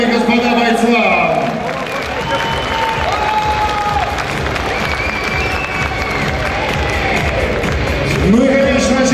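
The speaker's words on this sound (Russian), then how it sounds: "Аплодисменты, дамы и господа бойцам." An arena crowd at a professional fighting event applauds and cheers the fighters after the first round, with dense steady clapping under a ring announcer's voice.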